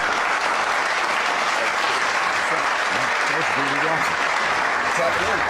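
An audience applauds steadily and loudly throughout, with a few voices rising over the dense clapping near the end.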